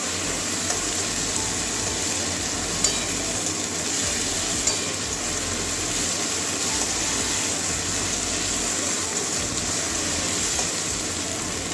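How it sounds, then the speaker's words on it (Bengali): Ginger-garlic paste fries with onion and tomato in a hot pan, a steady close sizzle with occasional stirring scrapes, no voices. "আবার আপনার কাঁচা গন্ধটা যাওয়া পর্যন্ত ভেজে নেব"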